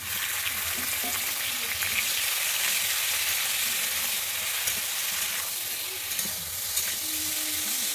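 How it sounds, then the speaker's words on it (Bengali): Okra fries in hot oil with a constant, close sizzle while a utensil stirs and scrapes the pan now and then. "আমি এবার ঢ্যাঁড়সগুলোকে ভেজে নিচ্ছি।"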